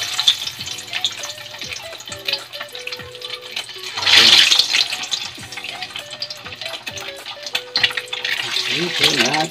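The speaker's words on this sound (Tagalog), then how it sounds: "Ipiprito natin siya." Hotdogs hit hot cooking oil with a sudden burst of sizzling, followed by a lighter continuous crackle of frying under background music.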